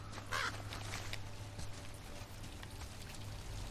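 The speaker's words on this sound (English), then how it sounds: "if you listen closely, you can hear the raven" A raven croaks a couple of times at a distance over steady outdoor rain and dripping, its call faint and partly masked by the wet background.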